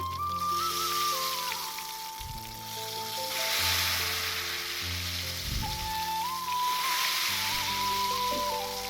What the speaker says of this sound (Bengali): গরম তেলে ঠান্ডা ব্যাটারটা দেওয়ার কারণে দেখো কিভাবে ব্যাটারটা ছিটকে কিন্তু ধারে একটা জালি সৃষ্টি করছে